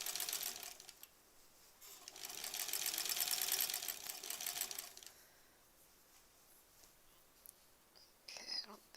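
Sewing machine stitching Splendid Sampler quilt blocks, a steady close whirring run for a few seconds, then it stops and soft handling noises and faint quiet speech follow.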